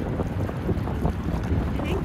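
Strong wind buffets the microphone at the Bolsa Chica wetlands beside choppy water, a steady loud roar with low rumbling gusts throughout and no clear pauses.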